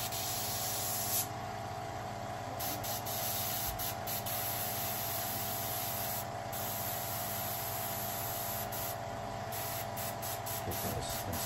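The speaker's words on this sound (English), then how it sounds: "I'll just show you some light coats" An airbrush sprays light coats of paint onto a Jordan Travis Scott 1 high-top sneaker, a steady, close hiss that runs unbroken throughout.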